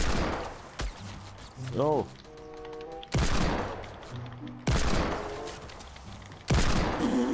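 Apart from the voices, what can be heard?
gunfire in Fortnite video game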